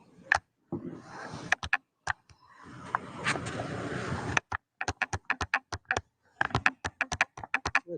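Old gloves give off sharp clicks in quick bursts and irregular runs, close up, with a stretch of rustling noise in the middle and no clear talk.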